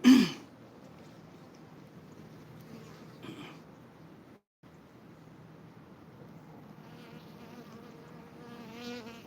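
Steady insect buzzing of bees, droning continuously at moderate level, with a brief dropout midway and a short louder burst at the start.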